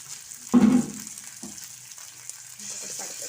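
Nivara fish fries in a pan with a soft, steady sizzle, opened by a sharp clatter and hiss as the fish is turned, and faint voices appear briefly in the background.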